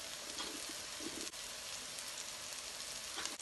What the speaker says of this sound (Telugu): కారం కూడా ఒక 30 సెకండ్స్ ఫ్రై చేసుకోవాలండి